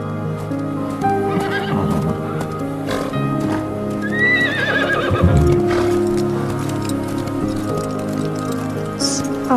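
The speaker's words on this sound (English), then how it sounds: "A horse?" A horse neighs loudly with a shrill, wavering whinny over the clip-clop of hooves, near and clear, with brief human sounds in the background.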